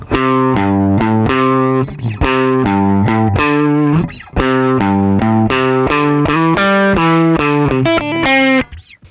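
Distorted electric guitar chugs through a fast, repeating riff of punchy chords, loud and close, with a brief stop midway before the pattern resumes.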